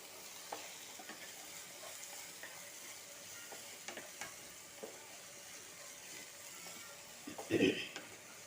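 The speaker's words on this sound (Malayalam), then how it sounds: "നന്നായി ഒന്ന് നന്നായി ഒന്ന് വഴറ്റിയെടുക്കുക" Sago biryani ingredients with tomato are sautéed in a pan, giving a soft continuous sizzle with light stirring scrapes and a louder clatter near the end.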